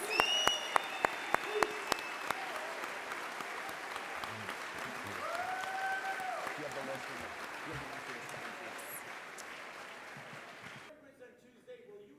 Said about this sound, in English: one more round of applause for Seb Gorka, Dennis Prager, Mark Levin, Charlie Kirk